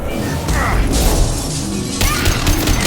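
Weapon fire in Mass Effect 2 combat: dense, loud blasts and crashing impacts in quick succession, with a sharp new burst near the end, over a continuous noisy battle backdrop.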